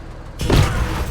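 Grenade explosion in the game Battle Brothers, a sudden loud, close boom that bursts in after a quiet moment and rumbles on briefly with a broad, rushing tail.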